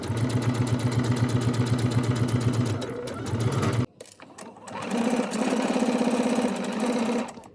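A sewing machine runs steadily while stitching the side seams of a dress, stops briefly, then starts again for a second long run of rapid, even needle strokes.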